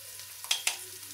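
Mutton pieces coated in turmeric and paste frying in a pan, a quiet steady sizzle broken by two sharp stirring scrapes close together, with a low hum underneath.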